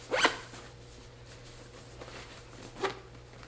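A Travelpro travel bag is zipped, with a quick, loud rasping pull at the start, faint rustling in between, and a second short zip near the end, close up and with no talking.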